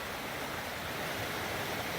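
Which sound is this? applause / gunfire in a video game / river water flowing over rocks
river water flowing over rocks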